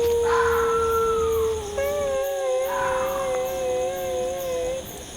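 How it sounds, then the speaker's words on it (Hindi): An eerie, wailing howl rises and wavers in long drawn-out tones, pausing briefly before a second sustained wail, over a steady background hum. "अरे, ये रोने की आवाज़ कहाँ से आ रही है?"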